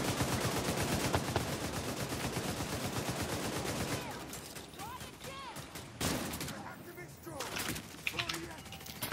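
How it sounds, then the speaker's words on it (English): Rapid bursts of nail gun fire in The Division 2, a dense, loud stream of repeated shots for the first few seconds, then thinning into scattered game sounds and effects. "Oh, the nail gun."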